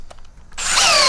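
A 12V cordless drill from a Bosch, DeWalt and Milwaukee comparison test spins up after a few faint clicks, then runs as a loud, close, steady high-pitched whine.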